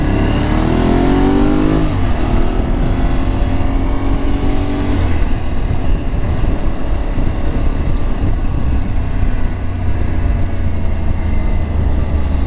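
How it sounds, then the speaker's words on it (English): An Aprilia 660 motorcycle engine revs up with rising pitch, then settles into a loud, steady, smooth idle rumble close by, no voices. "Wow, smooth engine."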